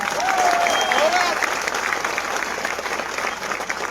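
A crowd at a public rally applauds the police, sustained dense clapping at moderate distance, with a brief whistle-like tone near the start.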